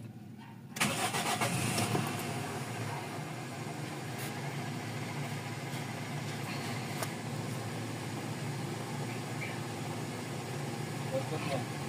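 A Toyota GLI car's 4A-FE engine cranks in a cold start about a second in, then settles into a steady idle hum that continues throughout.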